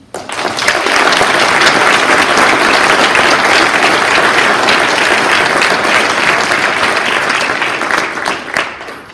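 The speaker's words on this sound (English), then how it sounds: "would you just help me give a big round of applause for our executive committee?" Sustained applause from the crowd at a high school athletics hall of fame ceremony, a thick, even wash of clapping that holds steady for several seconds before tapering off at the end.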